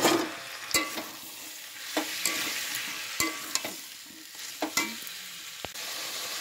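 Fried potatoes and peas are stirred in spiced oil in a pan for koraishutir kochuri, giving repeated sharp clacks and scrapes of the utensil every second or so over a steady frying hiss.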